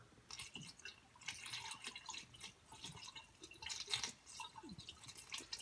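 Coolant trickles and drips faintly as it is poured into the engine crossover of a Cobra, the small splashes coming unevenly throughout.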